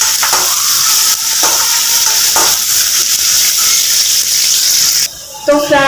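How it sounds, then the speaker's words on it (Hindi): Onions for chana masala fry in a pan with a loud, continuous sizzle and hiss, broken by a few stirring scrapes, close up and steady until a brief drop near the end. "तो फ्रेंड्स, प्याज मेरा देखिए थोड़ा भून चुका है।"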